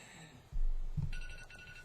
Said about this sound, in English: So, Amy, your phone's going off.